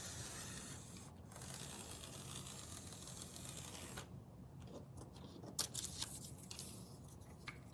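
A paper cutter slices a half-inch paper ring for a holiday scrapbooking craft, heard as faint, brief scraping and clicking cuts over a steady soft background hiss.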